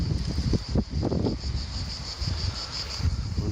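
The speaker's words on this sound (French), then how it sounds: "Ah, il y a du vent aujourd'hui." Wind buffets the microphone at a campsite beside a camper van, giving uneven low rumbling gusts. A faint high insect-like chirp runs steadily underneath.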